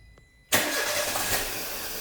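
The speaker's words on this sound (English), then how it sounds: "let's start the car and see what is going on." A Peugeot 307 with a misfire and rough idle starting up, a quiet pause, then a sudden crank and catch into a loud steady engine run, close by.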